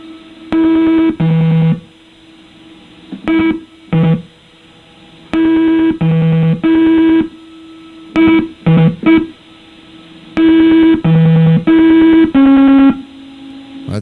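A Simon electronic memory game, invented by Ralph H. Baer and Howard J. Morrison, sounds bright, buzzy electronic beep tones in short bursts and sequences. Several pitches alternate, separated by brief pauses.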